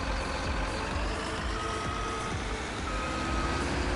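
A truck in Farming Simulator 19 sounds its reversing alarm, a regular series of beeps over a steady engine rumble, alone and fairly close.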